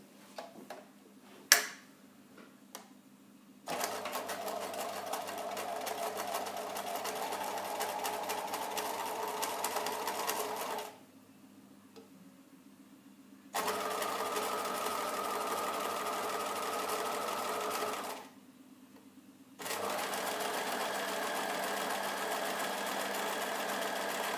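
Sewing machine stitching a Hong Kong seam finish along a pressed seam at about 0.6 cm allowance, running in three steady sustained bursts separated by short pauses, close and fairly loud with a few light clicks before the first run.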